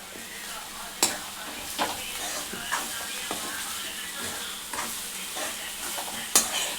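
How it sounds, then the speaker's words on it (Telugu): Puffed rice upma is stirred in a frying pan: a steady sizzle runs throughout, and a spoon scrapes and taps against the pan at irregular intervals, close and moderately loud. "ఇట్లా మంచిగా కలుపుకోవాలి"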